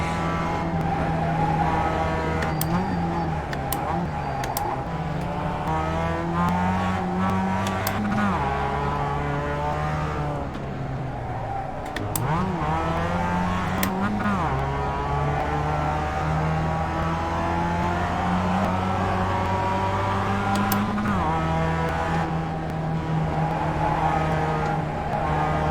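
A race car engine drones and revs steadily in a driving game while the car moves backwards down a straight, the pitch rising and dipping in smooth sweeps over a sustained, loud roar with occasional clicks, and someone speaks over it.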